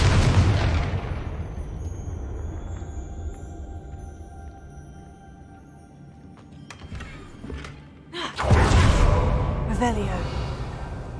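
Confringo spell explosions in Hogwarts Legacy: a burst at the start fades under a quiet stretch, then sharp pops and a louder blast land near the end, mixed with game sounds.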